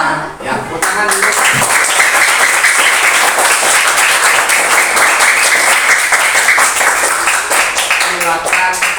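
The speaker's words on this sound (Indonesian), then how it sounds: "Ya, tepuk tangan dulu." Children in an Indonesian primary classroom clap their hands together in a sustained, dense burst of applause lasting several seconds, loud and close, with voices mixed in beneath the clapping.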